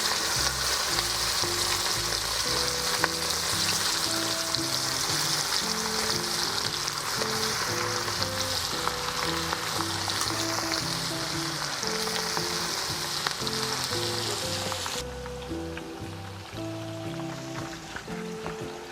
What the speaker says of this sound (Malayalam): ഇനി നമുക്ക് ഉള്ളി വറുത്ത് കോരിയ എണ്ണയിൽ തന്നെ പുരട്ടി വെച്ച ചിക്കൻ വറുത്തെടുക്കാം.